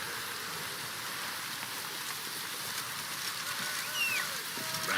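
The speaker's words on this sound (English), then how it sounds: "Rain again." Rain falls in the video game The Witcher 3: Wild Hunt as a steady, even hiss of drops that stays constant throughout, with faint game sounds in the background.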